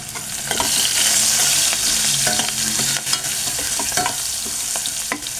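Turmeric, green chilies and curry leaves sizzle steadily in hot oil for a cauliflower curry, a loud continuous fry with occasional stirring clicks and scrapes, with no talking.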